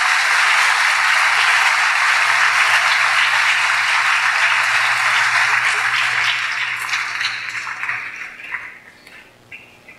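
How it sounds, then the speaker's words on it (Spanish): Students honored at a school awards night in the Andes receive loud, sustained crowd applause that holds strong for several seconds, then thins into scattered claps and fades away. "Regalémosle un fuerte aplauso a estos estudiantes"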